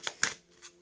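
Tarot cards shuffled by hand during a reading, giving two quick papery riffling bursts and then a fainter flutter, close by and quiet with no voice over it.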